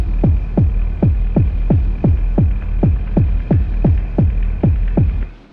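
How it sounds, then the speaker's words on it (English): Rhythmic pumping from granular synthesis, a loud low throb repeating about every half second over a steady hum and a thin high tone, alone and close. "So you hear this kind of pumping."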